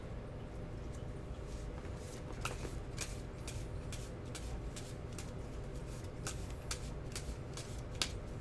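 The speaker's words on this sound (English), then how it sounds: "And then I shuffle the deck." A deck of Marvel Champions game cards being shuffled, soft rapid riffling and flicking clicks repeating over several seconds, close but quiet.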